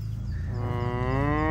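A cow lets out a single drawn-out moo on a farm, rising in pitch and growing louder as it goes, close and clear over a low background rumble.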